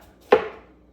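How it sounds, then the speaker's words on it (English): A single sharp knife chop through a pepper on a cutting board, one close crisp hit with a short fading tail. "Gonna chop up"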